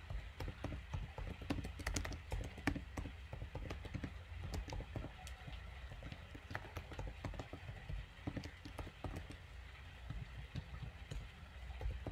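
Java code being typed on a computer keyboard: a quiet, continuous patter of rapid key clicks with uneven rhythm, close by and unaccompanied by speech.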